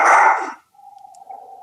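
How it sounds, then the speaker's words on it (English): A dog gives one loud close bark as someone walks past, followed by a faint whine. "sorry about the dogs, there's somebody walking by."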